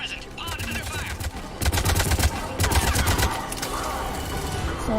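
Gunfire in Mass Effect 3, sustained rapid automatic bursts with clusters of sharp shots, loud and close, while game characters talk underneath.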